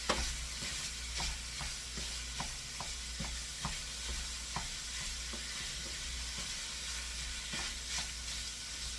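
Sausage browns in a pan with a soft steady sizzle, while a utensil scrapes and stirs with quiet regular clicks.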